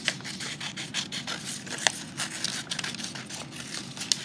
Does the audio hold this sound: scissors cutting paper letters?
yes